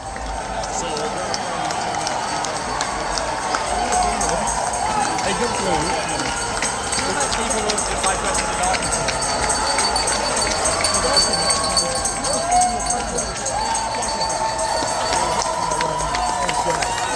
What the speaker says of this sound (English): The roar of the crowd is amazing.